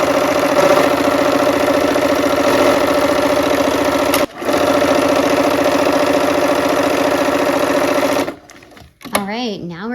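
A sewing machine stitching fabric for an autumn-themed quilt project runs at a steady, fast mechanical whir that stays close and even, pauses briefly, then resumes before stopping, followed by faint handling sounds.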